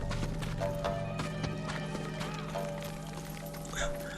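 Horse hooves clip-clop in a steady rhythm in the video game Ghost of Tsushima, with a brief whinny and ambient game sounds layered underneath, fairly quiet overall.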